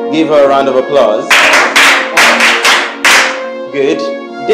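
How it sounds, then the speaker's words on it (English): A classroom full of pupils claps in short, rhythmic bursts for a fellow student, several quick claps clustered near the middle, with a voice talking before and after. "Give her a round of applause."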